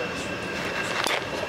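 Inside a moving train carriage, a steady low rumble and wheel-on-rail hum fill the space, with a brief brighter rattle near the end.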